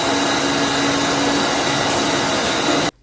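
A meat grinder runs steadily as salami meat is pushed through on its final grind, a loud continuous whirring drone that cuts off abruptly at the end.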